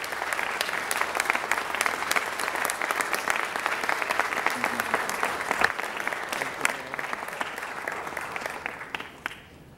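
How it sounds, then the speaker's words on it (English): An audience at a proclamation ceremony for Avis Ridley-Thomas applauds steadily and loudly for about nine seconds, the clapping thinning out at the end. "let's give her a round of applause"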